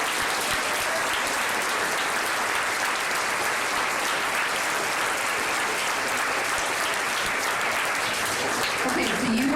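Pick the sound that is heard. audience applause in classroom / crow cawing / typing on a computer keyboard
audience applause in classroom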